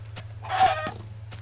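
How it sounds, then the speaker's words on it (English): A Minecraft chicken gives a single short clucking call, close and fairly clear, over a steady low game hum. "Chicken."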